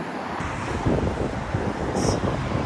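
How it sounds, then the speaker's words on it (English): Steady outdoor wind buffets the microphone in a continuous broadband rush, loud and close throughout with no talking. "It's not as windy as yesterday."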